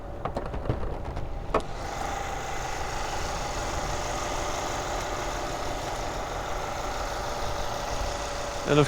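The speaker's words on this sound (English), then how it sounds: "you can't hardly hear the engine from the cabin at all" Engine of a 2012 Mercedes-Benz CL 550 4Matic with a 4.6-liter V8 idling, heard from inside the cabin as a quiet, steady low hum, with a few faint clicks near the start.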